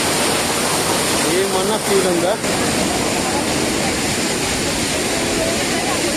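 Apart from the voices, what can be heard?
waterfall on the Amarnath Yatra trail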